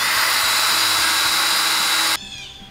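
A power drill with an oil-lubricated bit whines steadily and loudly for about two seconds, then cuts off abruptly and winds down.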